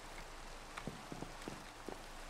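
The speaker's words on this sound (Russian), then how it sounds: "это не просто дождь, а дождь с грозой" Rain falls in the video game Minecraft during a thunderstorm, a steady hiss of drops with a few sharp, louder patters scattered through it, heard alone without talk.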